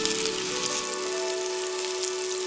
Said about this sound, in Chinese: 平底锅中淋入食用油，油热后下入鸡腿排